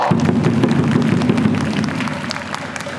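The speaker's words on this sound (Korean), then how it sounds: "박수 부탁드립니다." A baseball stadium crowd during a Hanwha Eagles–Samsung game keeps up steady, dense applause, a broad continuous roar of many hands heard from within the stands.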